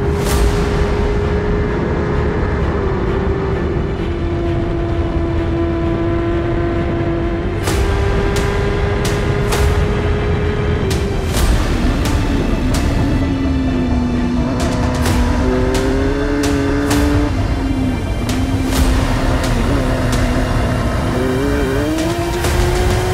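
F1000 single-seater race cars at Silverstone scream past, engines rising and falling through gear changes as several cars race side by side, loud and continuous with no talk over them.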